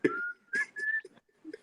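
A person whistles a few short, clear notes nearby, with one longer sustained tone rising slightly, separated by brief pauses and soft breathy sounds.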